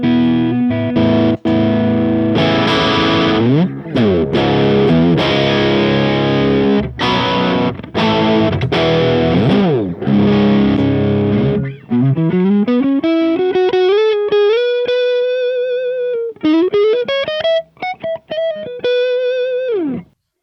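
Electric guitar through a Friedman BE OD Deluxe two-channel distortion preamp, fitted with Corrigan Uruk pickups: loud, thick distorted chugging riffs with sharp stops, then sustained overdriven lead notes bending and gliding upward.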